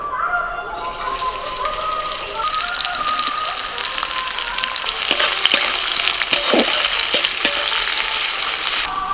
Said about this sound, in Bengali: কড়াইতে সাদা তেল গরম হতে দিয়েছি। এখন এর মধ্যে দিচ্ছি পেঁয়াজ কুচি।